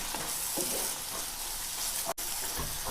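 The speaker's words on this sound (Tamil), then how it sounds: "பாலாடை சேர்த்துட்டு ஹை ஃப்ளேமில் வச்சு ஒரு 2 நிமிஷத்துக்கு கையெடுக்காமல் நல்லா கலந்து கொடுங்க" Mushroom gravy with cream bubbles and sizzles over a high flame while being stirred, a steady close frying hiss with soft scraping strokes and no talking.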